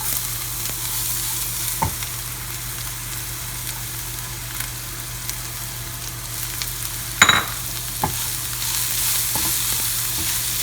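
Carrot sizzling in a hot pan with turmeric makes a steady frying hiss under a low hum, with a few scattered spoon knocks and one louder scrape partway through.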